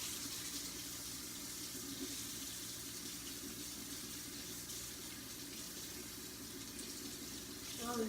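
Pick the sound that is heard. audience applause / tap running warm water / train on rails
tap running warm water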